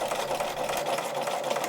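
A Bernina sewing machine stitching while sounding strained, a steady, close mechanical whir with rapid even pulses running throughout without a break.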